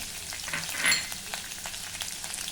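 Finely chopped garlic and green chilli frying in hot oil with crackling cumin seeds, a brisk close sizzle with a brief louder burst near the start, no voices.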